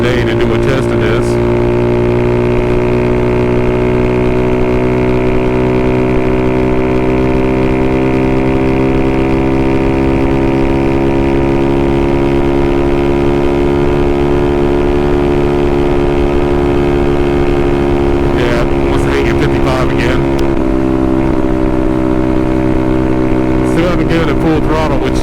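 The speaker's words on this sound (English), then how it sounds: "Full throttle, which I've noticed the Navi doesn't really like full throttle." A Honda Navi scooter with a carb kit drones steadily at full throttle on a windy day, its engine note holding level and close throughout, with brief gusts of wind noise near the end.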